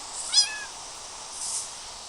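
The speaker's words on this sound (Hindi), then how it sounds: "तो आप ऐसे बिल्लियों को बहुत इजीली टेम कर सकते हैं।" A cat in the Minecraft video game gives two meows, a clear one early and a softer, breathier one later, over a quiet background.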